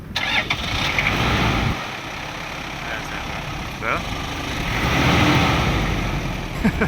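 A car engine cranks and catches, then runs at a steady mid-pitched idle, with a person speaking briefly over it.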